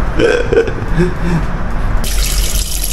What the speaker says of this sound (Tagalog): So, hugasan natin para lalong mawala pa yung pait, yung pagka-bitter.